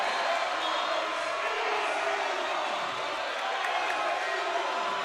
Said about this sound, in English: crowd letting him hear it here.